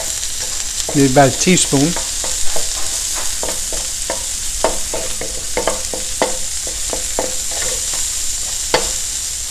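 Garlic frying in butter in a pan while shrimp cauliflower rice is prepared, with a steady close sizzle and repeated scraping stirs; a voice speaks briefly near the start.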